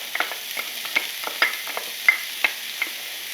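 Minced shallot sizzles in a pan with browned morel mushrooms, crisp crackling pops and quick spatula scrapes over a thin frying hiss, close and fairly loud.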